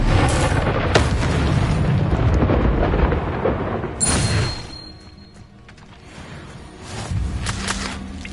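A Confringo explosion spell in Hogwarts Legacy: a loud, rumbling burst that fades, followed by another sharp blast and a second rolling boom, with no speech.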